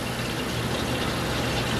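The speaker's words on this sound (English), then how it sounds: "the exhaust fan draws the CO2, which is mixed in the air, out" An exhaust fan runs in a small grow room, a loud steady whooshing drone with a low hum underneath, unchanging throughout.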